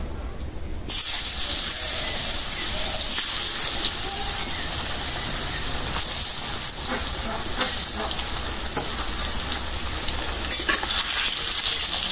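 Spiced, hand-mixed food is dropped into hot oil and fries with a continuous loud sizzle and hiss, with occasional stirring clatter.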